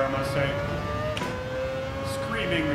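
A high-revving car engine in Gran Turismo 7 holds a steady whining pitch, with a brief shift dip midway and a rising tone near the end, under constant background engine noise.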